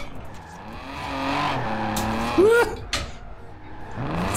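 A 1988 BMW M5 drifting in Forza Horizon 4, its tires squealing in a rising, wavering screech over a revving engine, loud and close, ending with a sharp slide.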